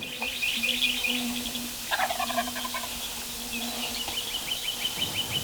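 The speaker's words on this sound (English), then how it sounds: "until he heard a gobble across the pasture" Wild turkey tom gobbling from across an open pasture during a spring hunt, a distant rattling gobble around the middle over steady birdsong and chirping, moderately faint and outdoors.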